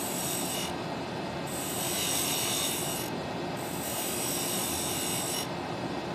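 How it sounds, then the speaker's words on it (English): A chisel pares a sharp chamfer into a purpleheart wood mallet, giving a steady, close rasping scrape that pauses briefly between strokes and has no voices over it. "cut a nice sharp chamfer. And then one up here at the top."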